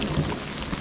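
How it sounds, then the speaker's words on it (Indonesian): Thunder rumbles low and close under steady rain on a mountain hiking trail, a brief deep roll blending with the patter of falling drops, with no voices. "Wow, geluduk ya."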